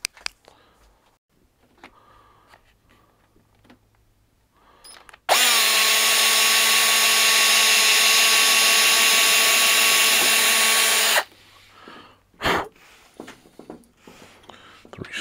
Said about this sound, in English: see if I can just give these a bit of a pre-drill before I decide to do anything crazy